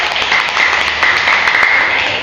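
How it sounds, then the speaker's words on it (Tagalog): Classmates give a student a round of applause in a classroom, brisk dense clapping held at an even level throughout. "Kailangan ay bigyan ng palakpak si Lizbeth River."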